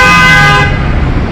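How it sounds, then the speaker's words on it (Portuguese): A car horn honks loudly and close by on a city street in Tirana, one sustained blast that cuts off after about half a second, leaving traffic rumble. "O povo aqui gosta de buzinar."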